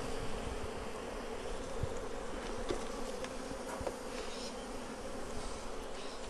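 A dense, steady buzz of many honey bees at an open hive fills the whole stretch, close and continuous, with occasional louder individual passes near the microphone.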